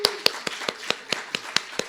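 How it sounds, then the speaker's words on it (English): A church congregation welcomes a first-time visitor with clapping. Distinct, evenly spaced claps come at a quick, regular pace and are heard fairly close, sounding like a sparse round of applause rather than a dense crowd. "We'll give you a round of applause."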